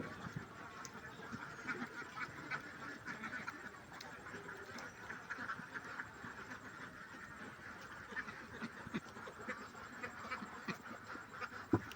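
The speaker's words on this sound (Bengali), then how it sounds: "এক এক করে হাঁসগুলি সন্ধ্যের আগে বাসায় চলে যাবে" Ducks on a Bengali village farm quack steadily at moderate distance as they head home before dusk, with a continuous rural background and no clear talk.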